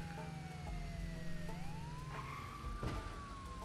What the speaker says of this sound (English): That siren's like not coming from the car,